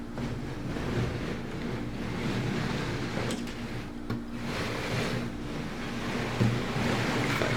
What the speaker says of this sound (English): I'll just show you what it looks like with the regular motor going on it